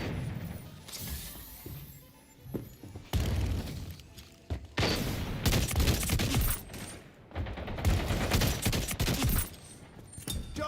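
Burst-weapon gunfire in the online shooter Splitgate 2, dense volleys of rapid shots and booms coming in clusters across the whole stretch, loud and close with short lulls between bursts.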